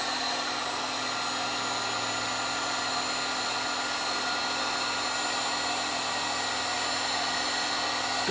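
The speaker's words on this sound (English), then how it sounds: "I'm going to turn on my heat gun. I'm going to shrink the heat shrink tubing down." A heat gun blows steadily to shrink heat shrink tubing on a Nixie tube clock build, a constant close-up whooshing hiss with a faint motor hum that holds at an even level throughout.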